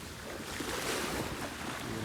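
Ocean waves wash steadily onto the shore, a continuous broadband surf roar mixed with wind noise on the microphone, with no talking.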